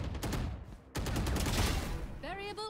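Rapid gunfire from a video game during strafing practice: dense continuous bursts with a short gap near one second, ending in rising electronic tones.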